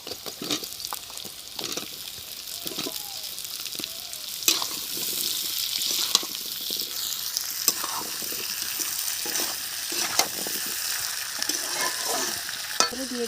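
Potato pieces frying with half-cooked onions in oil for a village-style jackfruit curry, a continuous close sizzle broken by repeated scraping and clinking stirs of the spatula, no voices.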